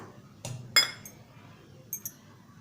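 A spoon clinks against a small bowl while ground raw mango chutney is scooped into it. There are a few sharp, separate metallic taps in a quiet kitchen, with no talking.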